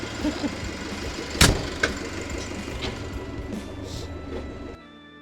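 A tractor engine runs steadily with a low rumble and a sharp knock partway through, then drops off abruptly near the end.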